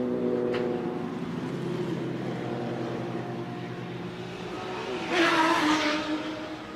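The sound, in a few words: BMW race car blasting past the pits at Road Atlanta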